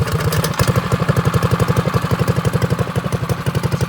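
A Predator small engine fitted with a muffler on a drift trike runs at a steady, loping idle, close and rhythmic with regular pulses.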